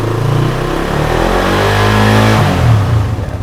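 Suzuki Satria F150 motorcycle engine revving up close, a loud mid-pitched drone rising and swelling as the RPM climbs, then easing back slightly toward the end, with no talking.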